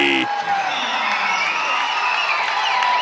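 A home high school basketball crowd in a gym roars and cheers after an alley-oop dunk, a loud sustained wash of voices and shouts that follows a sharp opening burst and carries through to the end.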